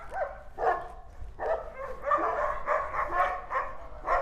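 Several dogs bark, yip and whine excitedly, overlapping in a busy, continuous chorus close by.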